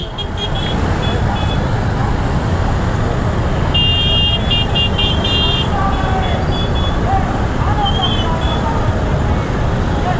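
Car and motorbike horns toot repeatedly in the thick of a Christmas motorbike rally of several hundred bikes, loud and close over constant engine and traffic noise, with people talking amid the din.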